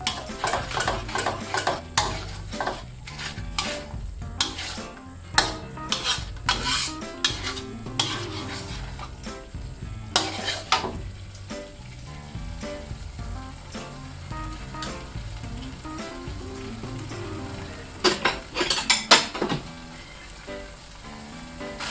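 Squid and salted egg yolk sauce are stir-fried in a pan, with loud, busy clatter and scraping of a utensil against metal over a steady sizzle that comes in bursts.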